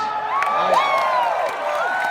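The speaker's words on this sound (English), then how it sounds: "Everything I say will get a cheer." A large convention crowd at Star Wars Celebration cheers and whoops steadily in a big hall, a dense continuous roar with shrill whistles and shouts rising through it, loud and sustained.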